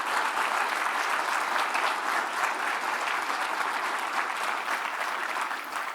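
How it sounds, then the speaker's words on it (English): Audience applause at a city's State of the City address, a full, steady roar of many hands clapping that holds evenly for six seconds and eases slightly at the end. "I want you to clap really loud for that effort"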